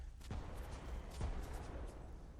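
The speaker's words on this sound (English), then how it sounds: "immediately we hear explosions because the enemies and the traps all respawn" Explosions from respawning enemies and traps in Remnant: From the Ashes video game: two dull booming blasts about a second apart, moderately loud over a rumbling background, with no talking.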